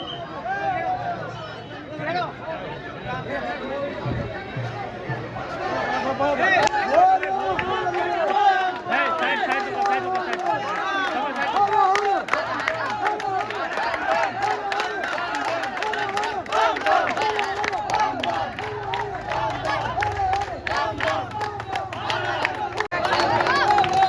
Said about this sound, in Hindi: भीड़ देखे छे भीड़ कते छै।